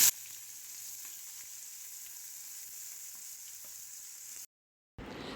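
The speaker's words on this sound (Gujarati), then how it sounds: "આ રીતે અડધી મિનિટ માટે આપણે હાઈ ફ્લેમ ઉપર સાંતળીશું" Onion and green garlic sautéing on a high flame with mustard seeds, cumin and asafoetida, giving a steady, loud broadband sizzle with small crackles for about four and a half seconds, then a brief silence before the frying resumes.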